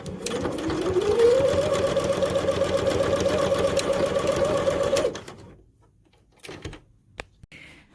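A sewing machine runs steadily for about five seconds, stitching straight seams on a homemade fabric face mask, its rapid needle chatter loud and close. It stops, and a few quieter handling clicks and knocks follow.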